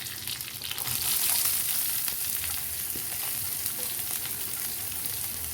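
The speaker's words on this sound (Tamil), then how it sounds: "பொடிசாக நறுக்கின ஒரு வெங்காயம் சேர்த்துக்க போகிறேன்." Finely chopped onion sizzles in hot oil with curry leaves for a South Indian cabbage poriyal, a steady close crackling fry with occasional soft stirring scrapes and no talk.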